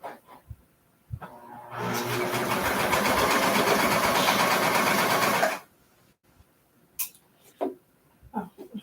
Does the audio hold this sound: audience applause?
no